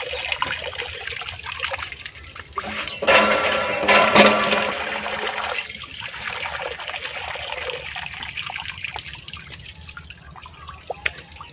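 Water pours and splashes in a village setting, a loud gushing burst around the middle that tails off into softer trickling and dripping, close by with no talk over it.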